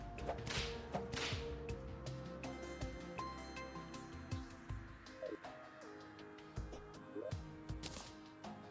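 Repeated whip cracks from weapons in Terraria with the Calamity mod, sharp irregular snaps scattered over steady game music and effects, fairly close and prominent.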